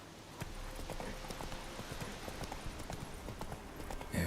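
Hooves of Roach, a horse in The Witcher 3, clip-clop at a steady walking rhythm over a constant background bed, close and moderately loud throughout.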